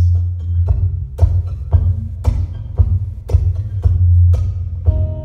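Simple beat on just two drums, a deep thumping kick alternating with sharper hits in a steady loop, close and fairly loud, with no voices.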